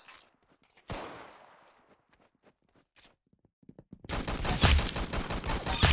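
Gunfire in the Roblox game Arsenal: a sharp shot with a decaying tail, scattered light clicks, then a dense, loud burst of rapid fire to the end.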